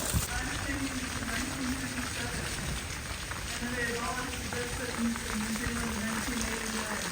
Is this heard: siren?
no